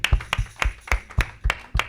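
Congregation in a church clapping during a sermon on baptism in the name of Jesus Christ, with sharp, evenly spaced claps in a steady rhythm, close and distinct.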